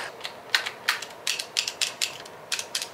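Rapid mechanical clicking and ratcheting as a stuck film advance on a Nikon FE manual film camera catches and slips, in irregular bursts close up with no talking.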